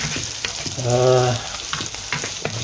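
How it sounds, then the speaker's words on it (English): Garlic and shallots fry loudly in a pan, a continuous close sizzle with scraping stirring strokes throughout and a brief tonal hum in the middle. "I'm just going to shove in a little bit of garlic and shallots and just mix that up a little bit."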